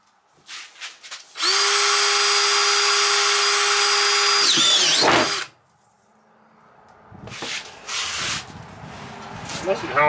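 A power drill bores aggressively during window fabrication for a Cat 215B excavator, with a loud, steady high whine lasting several seconds that ends abruptly, followed by softer rattling and handling noises nearby.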